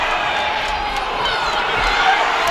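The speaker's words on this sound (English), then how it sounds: "and the crowd respond" A boxing arena crowd roars in response to a heated exchange in the ring, a dense sustained rumble of cheering voices that swells slightly toward the end, with commentary mixed in.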